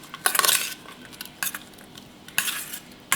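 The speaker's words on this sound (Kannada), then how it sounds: "ನಾನು ರೆಡ್ ಕಲರ್ನ ಹಾಕಿ ಮಿಕ್ಸ್ ಮಾಡ್ತಾ ಇದ್ದೀನಿ" A utensil stirring red food colouring into a tutti frutti mixture in a bowl, giving a few short scraping, clinking strokes in quick bursts, close and fairly loud against quiet background, with no talking.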